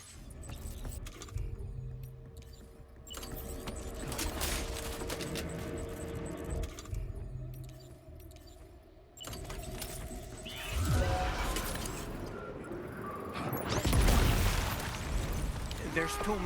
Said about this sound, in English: let's try the blood grenades